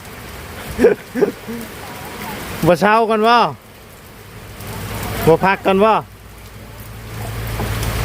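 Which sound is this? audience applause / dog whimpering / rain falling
rain falling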